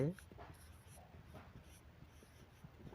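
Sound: writing notes

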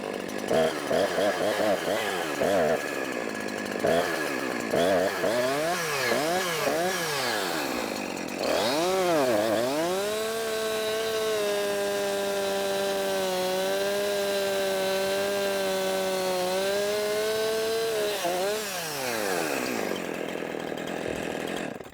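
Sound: chainsaw cutting a tree

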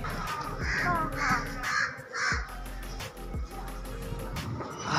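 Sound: crow cawing near the house

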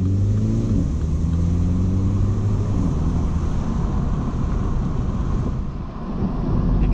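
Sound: 2018 MINI Cooper S accelerating

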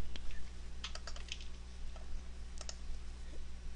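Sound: typing a command on a computer keyboard

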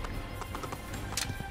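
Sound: horse hooves and neigh in Assassin's Creed video game

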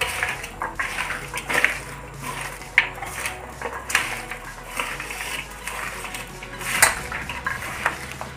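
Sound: mixing beetroot chips with chili powder, salt and oil

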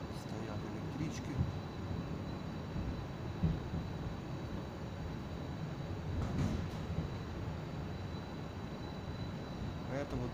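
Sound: train approaching Savyolovsky station in Moscow

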